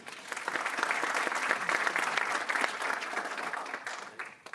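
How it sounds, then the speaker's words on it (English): Sustained applause from a large audience at a keynote opening session, dense steady clapping that swells and holds for several seconds before thinning out at the end. "please give them another round of applause"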